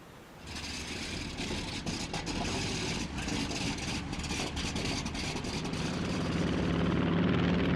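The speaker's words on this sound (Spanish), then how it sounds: "el bombardero estadounidense Enola Gay se dirige al archipiélago japonés" Propeller engines of the American bomber Enola Gay drone in flight, a dense continuous roar that starts abruptly and grows slightly louder.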